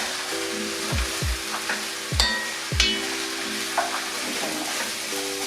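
Carrots sizzle steadily in a pan, with a few sharp clatters and scrapes as a utensil stirs them, and a low hum running beneath.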